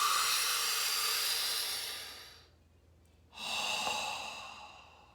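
Close, quiet breathing through pursed lips: a long hissing inhale that tapers off, a brief silence, then a relaxed, airy exhale rising and slowly fading.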